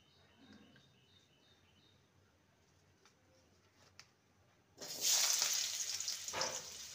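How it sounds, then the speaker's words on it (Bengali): Small potato pieces dropped into hot mustard oil, a quiet room at first, then a sudden loud bright sizzle that keeps crackling steadily at close range. "আলুটাকে ভেজে নেব।"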